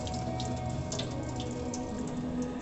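Water runs steadily from a tap, a soft continuous stream with faint splashing and no voices.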